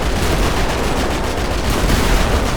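Sustained, dense gunfire in the video game GTA V, aimed at a tank, loud and continuous like a rapid fusillade with no break.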